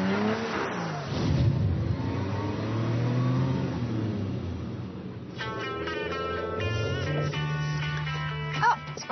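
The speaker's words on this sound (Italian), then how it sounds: "Dobbiamo accendere il motore." A car engine is heard, likely starting and revving up, with a steady low drone building through the clip and harmonic whine later. Speech is faint or absent throughout.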